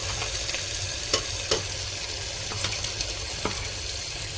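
Thick gravy for potato and spinach curry being stirred inside a pressure cooker, a steady wet sizzle broken by sharp scraping clicks of the spoon against the metal pot.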